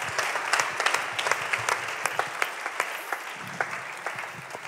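An audience at the final of a regional Ligurian artists' competition claps steadily, a dense patter of many hands with individual sharp claps standing out, sustained throughout without talk.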